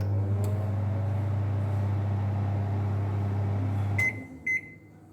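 A Samsung microwave oven hums with a steady low drone while running, then stops abruptly and gives a few short electronic beeps, close and clear in a quiet room.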